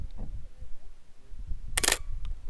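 A single sharp Pentax 67 medium format camera shutter click at 1/1000 second stands out over quiet background shuffling and low handling noise, outdoors in Moab, Utah.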